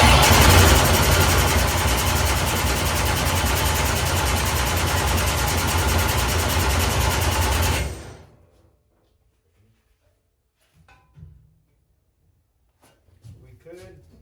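A billet 500 small-block Chevy engine cranks with a loud, steady, dense mechanical churn for about eight seconds, then cuts off abruptly into near silence broken by faint clicks and brief voices.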